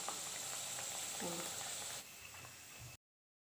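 Donuts fry in hot oil with a dense, steady bubbling sizzle up close, fading slightly partway through before cutting off abruptly, with a voice talking over it.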